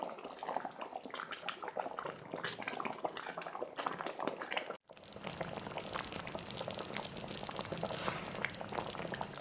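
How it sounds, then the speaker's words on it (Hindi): Hot and sour soup simmering in a pot as eggs go in, a faint continuous bubbling with small pops and a brief dropout midway, no talking. "ये देखिए दोबारा से बबल्स बन रहे हैं"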